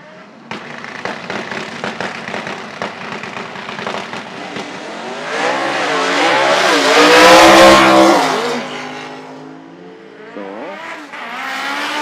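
A Mustang and a Honda drag race at Toronto Motorsports Park, with loud engines crackling and popping at the start before a roaring, rising pass sweeps close by, then fades while another engine revs.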